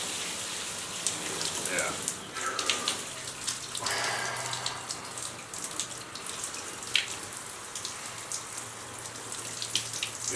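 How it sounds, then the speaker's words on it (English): Warm shower water runs in a continuous spattering hiss, fairly close, with uneven splashes as the flow is disturbed; a voice briefly speaks over it. "Yeah, so I start off with a warm shower."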